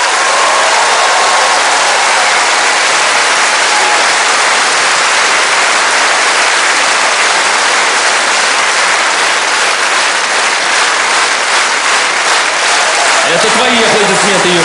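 A theater audience greets comedian Yuri Galtsev with loud, sustained applause, a thick, unbroken roar of clapping that fills the whole stretch before a voice starts to come through at the very end.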